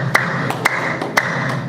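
Hand claps ring out in a steady rhythm, four sharp, close claps about half a second apart over a faint background hum, no talking.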